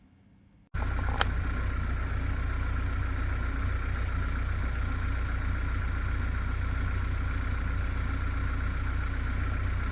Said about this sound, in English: this saw does start good. You know, I'm really happy with that. It idles, it restarts.